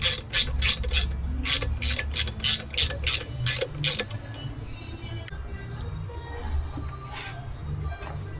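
A ratchet clicks rapidly in bursts as bolts are snugged on a Subaru STi during a build, close and crisp for about four seconds, then quieter clinks and rattles of parts and tools follow.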